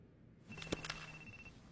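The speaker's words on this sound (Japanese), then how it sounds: "でも電話出ないと後で大変じゃないか。" A telephone rings in an anime romantic comedy scene, a short burst of bright electronic ringing trills at moderate loudness over a quiet room, with no voices.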